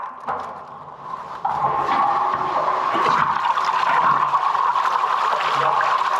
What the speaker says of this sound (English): Could I get you to flush those toilets if that's alright?